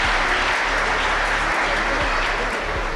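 A live audience at a comedy show claps loudly for Kader Khan, a dense, sustained burst of applause from a crowd that holds steady throughout.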